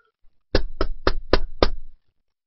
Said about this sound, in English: Pinkie Pie heard a knock on the door